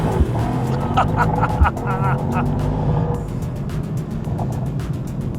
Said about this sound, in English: Left foot on the brake, right foot on the accelerator, race start and blast off!